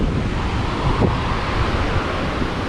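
Waves and wind on the beach at Kata, Thailand, in front of a resort on a grey day: a steady, loud broadband roar of surf with wind buffeting the microphone throughout.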